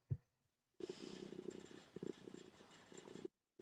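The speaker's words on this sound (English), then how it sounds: "Can hear the little purr, so cute." A cat purrs up close in a continuous rumbling stretch, soft and rhythmic, briefly broken before and after by silence.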